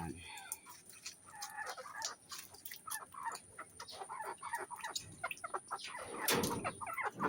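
Chickens cluck and chatter close by in short irregular bursts, with faint rustling and a brief voice in the background.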